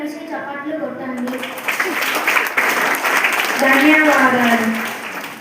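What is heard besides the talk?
classroom applause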